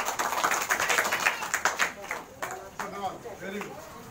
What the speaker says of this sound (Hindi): चलो ताली बजाओ उसके लिए।